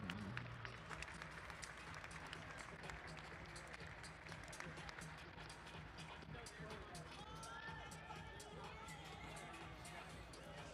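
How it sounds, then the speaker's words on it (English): Applause and crowd noise at a velodrome Saturday night track race honoring Madison racers, a sustained, somewhat distant clapping wash with chatter and a voice speaking over it. "Round of applause for all of our Madison racers."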